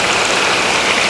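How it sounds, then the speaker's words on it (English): Steady, close rush of clear stream water flowing along the Bishnu River at Bishnu Dwar near Kathmandu, Nepal, a continuous broadband hiss with no voices. "The water is flowing."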